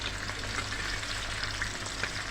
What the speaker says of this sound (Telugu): onions వేగుతున్నాయి friends